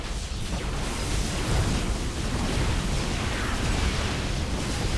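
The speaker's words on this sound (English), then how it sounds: "Back in my base, my Nexus has been demolished." A Protoss Nexus being destroyed in StarCraft II, a dense, continuous roaring explosion and crumbling rumble that holds steady and loud for several seconds without talk.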